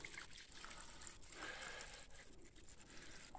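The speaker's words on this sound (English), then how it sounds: "Actually got water running out of that pipe." Faint water trickling steadily out of a pipe inside a mine, a soft continuous dribble against a hollow, quiet background.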